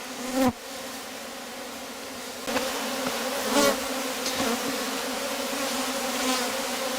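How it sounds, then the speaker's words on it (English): Honeybees being poured into a Rose hive while a queen is held back, a dense steady buzz humming close throughout with a few louder swells and brief knocks as the frames are handled. "I'm going to put in lots and lots and lots of bees"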